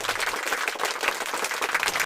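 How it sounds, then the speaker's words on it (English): A class claps during a group demonstration on cultural relativism and diversity; a burst of hand clapping from a modest group, with individual claps distinct and uneven in rhythm, fairly close and steady for about two seconds, without talking. "let's give everyone an excellent clap"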